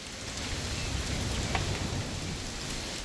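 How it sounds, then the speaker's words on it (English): Rain pours in the video game What Remains of Edith Finch, a dense steady hiss with faint low rumbles of thunder underneath, continuous and fairly close. "It's gonna rain the whole weekend,"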